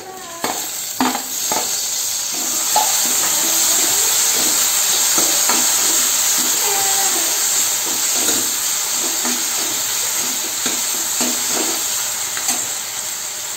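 Tomatoes added to a hot pan and stirred while dal palak cooks, a loud steady sizzle and hiss with repeated close scraping and stirring strokes throughout, no talking.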